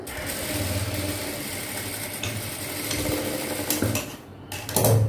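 A sewing machine stitches a blouse piece with a steady, continuous mechanical whir, close by and fairly loud, with a short break and a clunk near the end and no voices.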